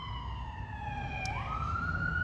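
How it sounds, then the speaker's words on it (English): Emergency vehicle sirens wail through a city in Cheyenne, a steady wavering tone that sweeps upward near the end, moderately distant over low traffic rumble. "I'm sorry about those sirens."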